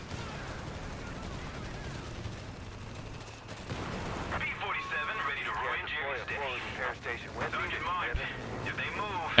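A Company of Heroes 3 aircraft makes a strafing run, bursts of rapid gunfire and explosive crackle rising midway into a dense fusillade over a busy battlefield mix, with talk underneath.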